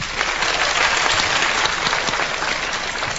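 Audience applause in a studio talk-show setting, a dense, loud, sustained wash of clapping from many hands that runs the whole time without a break.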